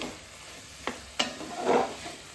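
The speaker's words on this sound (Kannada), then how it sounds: "ಸ್ವಲ್ಪ ಮೀಡಿಯಮ್ ಫ್ಲೇಮಲ್ಲಿ ಇಟ್ಕೊಂಡು ಒಂದು ಸ್ವಲ್ಪ ಫ್ರೈ ಮಾಡೋಣ" Mixed vegetables for a vegetarian Thai curry frying on a medium flame: a soft, steady sizzle with two sharp utensil clicks and a brief burst of stirring, fairly quiet and close.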